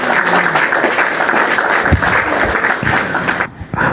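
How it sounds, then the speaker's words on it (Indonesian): Thunderous applause from a live audience welcoming a speaker to the stage, a dense, loud, sustained wash of clapping that fills the whole stretch and thins slightly near the end. "tepuk tangan yang gemuruh"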